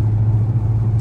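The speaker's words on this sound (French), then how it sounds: "c'est pas ouf à conduire, une R8 V10" An Audi R8 V10 rumbles along on the road, a deep steady drone heard close for a brief moment, with no voices over it.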